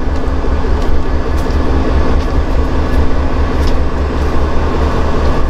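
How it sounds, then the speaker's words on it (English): A parked commuter train on an abandoned Boston line idles with a steady, loud low rumble and engine hum, continuous and close by, with no talk over it. "If you guys can hear it, this train is on."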